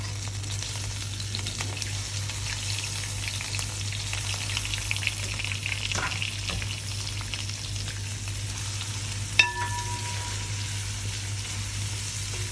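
Small shallots with curry leaves fry in a pan with a steady, dense sizzle and occasional stirring clinks, close by, under a low constant hum.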